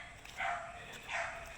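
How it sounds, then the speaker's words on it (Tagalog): A dog barks twice, faint and distant, the two barks spaced about a second apart. "Matahol na yung alaga kong aso"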